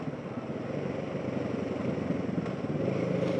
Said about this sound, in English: There's going to be about 20 or 30 motorcycles